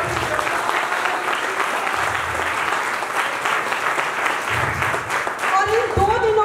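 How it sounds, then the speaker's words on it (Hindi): A seated audience at a direct-selling leadership program gives a guest speaker loud, sustained applause, a dense wash of many hands clapping steadily throughout without any talk over it. "एक बार सर के लिए जोरदार तालियां बजाएंगे"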